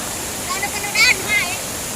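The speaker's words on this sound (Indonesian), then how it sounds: "Ini di air di Sungai Baledana ya guys." The flooding Molo river rushes as a steady broadband wash of flowing water, loud and continuous, with no one speaking over it.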